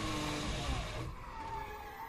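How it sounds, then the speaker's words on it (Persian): Charles Leclerc's Formula 1 car loud and close, its engine dropping away as the rear tyre locks and the car stalls, leaving a fading low rumble. "بله لاستیک عقبش قفل کرد، ماشین خاموش شد"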